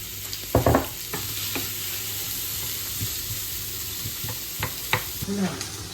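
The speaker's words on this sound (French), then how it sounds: "Les oignons sont en train de se caraméliser." Onions caramelize over low heat in a frying pan, giving a steady soft sizzle with a few sharper clacks of stirring and utensil taps against the pan.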